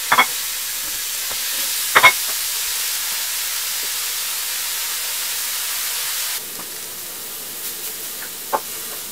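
Burger patties sizzle steadily in a hot pan sprayed with a little oil, a soft, continuous hiss broken by a few light clicks and taps of utensils.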